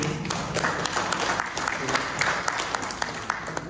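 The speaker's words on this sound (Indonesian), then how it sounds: "Boleh tepuk tangan buat Inang." A room of people at a church consolation service applauding, a dense patter of claps at steady volume throughout, fairly close.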